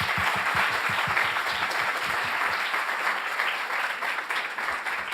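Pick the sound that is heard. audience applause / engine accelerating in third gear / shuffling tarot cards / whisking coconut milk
audience applause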